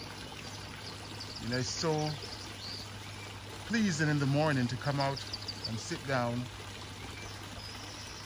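Steady trickle and splash of water from a backyard garden fountain runs continuously beneath someone talking calmly nearby, with faint bird calls in the background.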